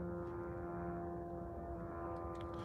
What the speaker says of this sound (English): We hear the sound of a drone flying over.